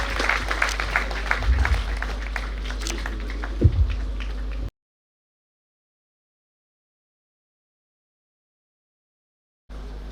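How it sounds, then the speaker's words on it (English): Audience applause fills a hall at a youth talk on Swami Vivekananda's message, a dense steady clapping for about five seconds before dropping to silence, then returning briefly at the end. "A huge round of applause"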